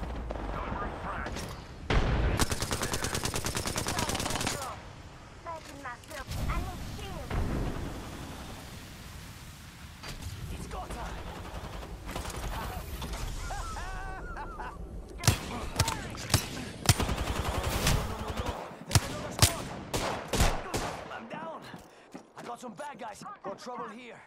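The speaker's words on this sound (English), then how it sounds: "Getting shot at." Gunfire in the Apex Legends video game: sharp bursts of shots crackle in the opening seconds and again in rapid spiky volleys later, amid explosion-like rumbles and game noise, with a voice talking over parts.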